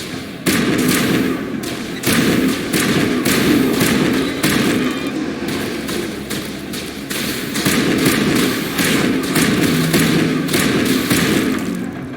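Grenade explosions in Mass Effect Legendary Edition boom and thud repeatedly amid dense, continuous game combat noise and gunfire, loud and sustained across the whole stretch.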